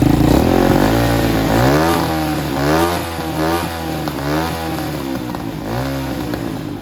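A 125cc pit bike single-cylinder engine with an aftermarket exhaust pipe runs loud and close, blipping the throttle in repeated revs over a steady idle.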